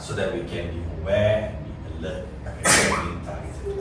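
A single sharp sneeze bursts out partway through steady speech in an indoor presentation, loud and brief against the talking.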